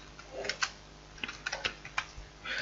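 A computer keyboard is typed on nearby in short, uneven bursts of light clicking keystrokes, quiet and close, with no talking.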